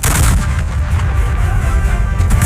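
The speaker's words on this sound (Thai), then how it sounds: "กองทัพต้องตัดสินใจยิงปืนใหญ่เข้าไปสนับสนุนทหารราบในจุดวิกฤตหลั่นทันที" Heavy artillery fire at the Thai–Cambodian border booms continuously, deep and loud, with rolling low-frequency blasts overlapping one another without pause.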